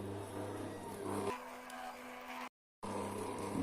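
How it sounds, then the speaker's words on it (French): A stand mixer kneads bread dough made with T45 flour at speed 1, giving a steady motor hum that drops in pitch partway through, then a short silence before the hum resumes. "On passe au robot. 2 minutes en vitesse 1."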